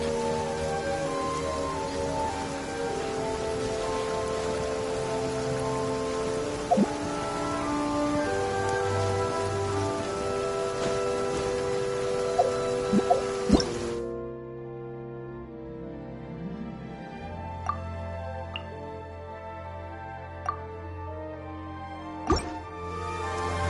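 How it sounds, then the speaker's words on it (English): Steady rain pours down in the Genshin Impact video game world, a dense even hiss with occasional drips and plops, shifting to lighter patter halfway through under a soft musical backdrop. "Now it's bound to rain."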